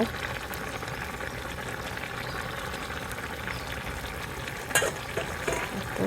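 Tomatoes and chopped coriander leaves fry in a pan on a stovetop, giving a steady close sizzle and crackle throughout with a brief louder clatter near the end.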